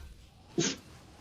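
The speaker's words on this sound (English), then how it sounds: "Dog's sneezing." A single short, sharp sneeze from a dog indoors, close by and fairly quiet, a brief burst against a low background.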